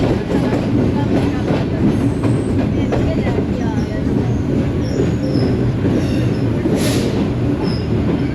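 Subak Raftar railcar running on tracks in Pakistan, led by locomotive HBU 28039, with a loud continuous rumble of wheels and carriages, occasional squeals and clatter, and faint voices in the background.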